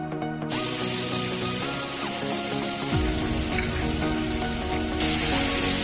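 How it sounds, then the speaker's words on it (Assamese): Small dried shrimp fry in hot oil, giving a loud, close, sustained sizzle that surges when they hit the pan and brightens further near the end, with no talking. "এয়া মই প্ৰথমে মিছা মাছকেইটা তেলত অলপ ফ্ৰাই কৰি লওঁ"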